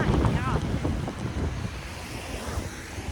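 Blustery snowstorm wind buffets the microphone on a Toronto street, a loud, rough rush that swells and eases over a few seconds.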